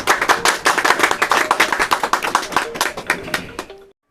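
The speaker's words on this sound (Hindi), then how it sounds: "एक बार जोरदार ताली बजाइए।" Loud, fast clapping from a gathering at an education welfare society event in Nagpur, a dense run of sharp claps for about four seconds before stopping abruptly.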